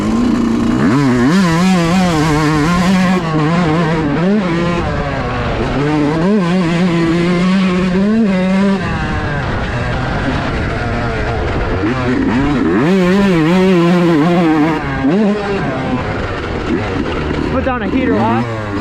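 A Yamaha YZ125 two-stroke race motorcycle is ridden hard around a lap of a bumpy track, its engine buzzing loud and continuous with rising and falling revs as it accelerates, shifts and backs off, staying close throughout.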